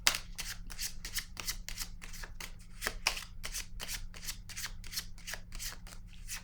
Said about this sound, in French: Je vais piger une autre petite carte.